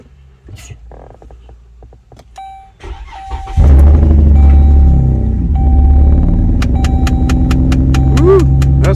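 A Dodge Journey engine cranks and catches on a jump box, then runs with a loud, uneven, rough rumble; faint clicks and whines come before it.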